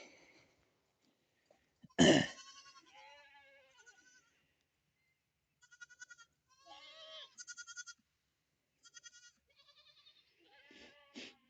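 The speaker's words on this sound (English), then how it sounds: "Now I got 3 goats over there that I didn't want over there." Goats on a farm bleat in several separate calls, some close and loud, others shorter and fainter, spaced out with quiet gaps and a sharp cough-like burst near the start.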